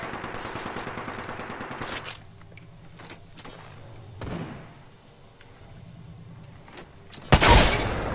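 Kraber sniper rifle shots fire in a first-person shooter battle, with sharp bursts at intervals among steady mechanical game noise, ending in a loud close blast.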